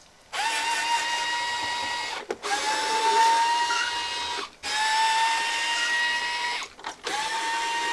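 Small screws being driven out of an original 2002 Xbox console with a whining power screwdriver, three or four steady bursts separated by brief pauses, close and fairly loud with no talking.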